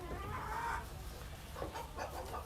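Chickens clucking in and around their small coop houses on a farm, a steady murmur of hen calls with a few louder clucks rising over a constant low background hum.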